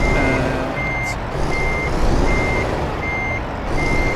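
Steady electronic reversing beeps from a truck in American Truck Simulator, hauling a yacht trailer, repeat at an even pace over a loud low engine rumble, with no talking.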